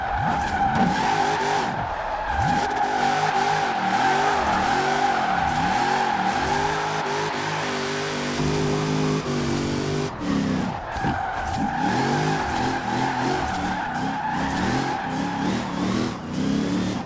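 An engine-swapped car in Forza Horizon 4 revs loudly and skids, its engine note rising and falling under steady tire squeal through a long continuous drift.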